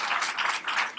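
An audience at a teachers' workshop on a new educational model applauds, a steady, fairly loud wash of many hands clapping that swells and dips slightly across a second, with no voices on top.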